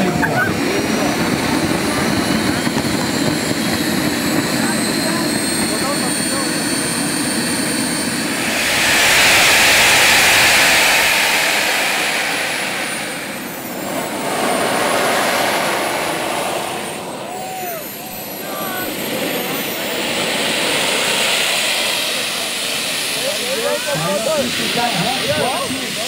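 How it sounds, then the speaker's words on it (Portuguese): Aircraft turbine engine running outside, a loud steady roaring hiss with whining tones that swell and ease, heard up close with occasional talking. "Vou baixar o som aqui para vocês ouvir o barulho da turbina"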